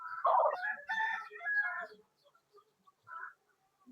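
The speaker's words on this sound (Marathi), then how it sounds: "कोंबडा पण बघू शकता तुम्ही." A rooster crows once close by, a strong drawn-out call lasting about two seconds, followed by a faint short cluck and quiet.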